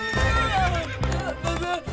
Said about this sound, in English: Somebody stop this horse!